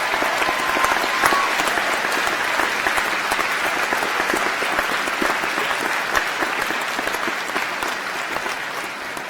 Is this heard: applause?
yes